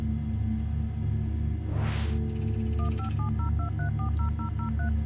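Dial-up internet connection sequence inside a Windows 98-style video game: a rising sweep, a steady tone, then a rapid run of alternating DTMF dialing beeps over a constant low hum, with no talking.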